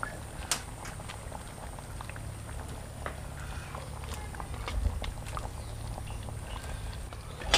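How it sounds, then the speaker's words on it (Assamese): Tomato gravy with chicken tikka simmers in a pan for butter chicken, a quiet bubbling with soft pops and occasional small clicks, no talking. "ইয়াত দেখিছেনে ধুনীয়া বিলাহী গ্ৰেভিখিনি সিজি আছে"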